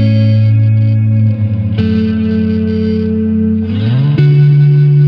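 Electric guitar fed through a beat crusher digital distortion effect, its crunchy, reverb-soaked chords sustaining loud and close with a couple of chord changes, played alone without any talking.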